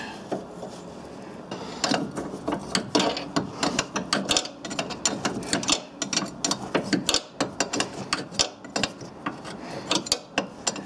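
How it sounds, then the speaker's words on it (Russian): A ratchet wrench tightens the nut on a rear stabilizer link of a Ford Focus 3, giving rapid clicking bursts in an irregular rhythm, close and fairly loud, with brief pauses between strokes. "Закручиваем с хорошим усилием, чтобы она не шаталась."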